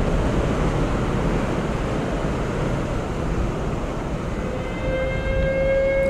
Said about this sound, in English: those sirens aren't going to save you